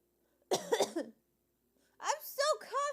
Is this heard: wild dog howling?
no